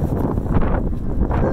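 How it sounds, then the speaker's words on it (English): Strong wind during a May snowstorm in Estes Park, Colorado, roars as a steady, loud, buffeting rush with gusty swells, heard from a car at a gas station with no talking. "Oh, it's so windy."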